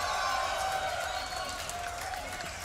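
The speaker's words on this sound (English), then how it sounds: "You know it's fun when we're cheering for inanimate objects" A studio audience cheers as a game-show spinning wheel appears, a broad crowd roar with some clapping that swells at first and then eases slightly, heard fairly close and without clear speech.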